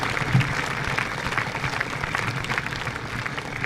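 An audience at a senior awards ceremony applauds families with a steady, dense patter of clapping from a large room, even in level throughout.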